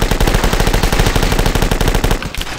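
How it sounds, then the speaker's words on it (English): An Uzi submachine gun in The Last Stand fires in a fast, continuous burst of sharp, evenly spaced shots, loud and close, before it cuts off near the end. "I'll use the Uzi"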